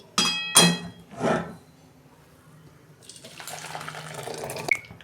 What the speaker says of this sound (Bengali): দেখুন বন্ধুরা, ডালটা সিদ্ধ হয়ে গেছে, আমি ডালটা ঢেলে ফেলছি।